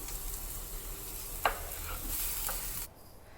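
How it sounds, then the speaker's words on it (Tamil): Capsicum sautéing in a hot pan, steady close sizzle with a few light scrapes and taps of a spoon as it is stirred, then cutting off abruptly near the end, no voices. "குடமிளகா நல்லா வதக்கி"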